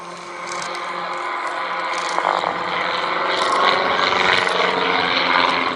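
An aircraft flying a quarter clover manoeuvre at the Abingdon Airshow gives off a continuous engine drone that swells gently as it pulls up, heard alone without talk.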